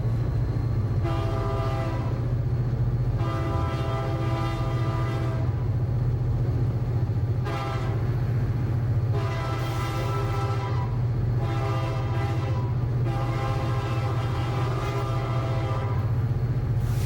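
A BNSF detour freight train on a Memphis to Kansas City run rolls through downtown Richland on the Cuba Sub, sounding repeated long horn blasts over a steady low engine rumble and rail noise.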